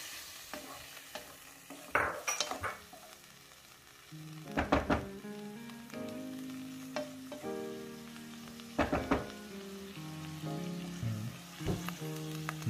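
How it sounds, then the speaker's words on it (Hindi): Vegetables with a poured-in sauce and water mixture sizzle and bubble in a pan over high gas heat, a soft continuous fry broken by several louder stirring scrapes, with no one talking. "अब आप देखो इसको ये ऑलमोस्ट बबलिंग होने लग गई है"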